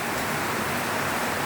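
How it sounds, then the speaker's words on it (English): Heavy rain pours down steadily outdoors during a flood, a dense, even hiss of downpour with no talk. "it's just buckering down with rain right now"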